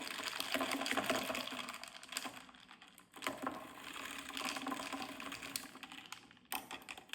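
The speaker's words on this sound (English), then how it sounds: "Let's give it another quick little stir." Ice rattling and clinking as an iced brown sugar espresso drink is stirred in a glass, a busy close-up clatter with a few brief pauses, no talk.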